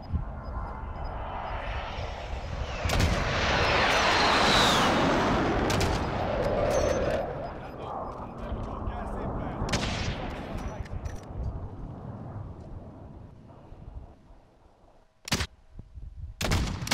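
Call of Duty Warzone combat roars with a sustained rumble like an aircraft passing, broken by several sharp, loud gunshots spread across the scene, the last two close together near the end.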